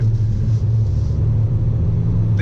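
A Hyundai Kauai diesel pulls steadily under acceleration, a loud, continuous low engine rumble heard from inside the car with no voices.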